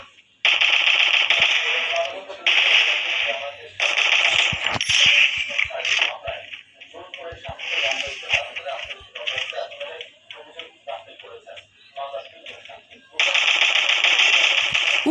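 An XM8 rifle fires in a shooting video game, with rapid bursts of loud gunfire and hit sounds that come and go in clusters, mixed with game effects and someone talking excitedly.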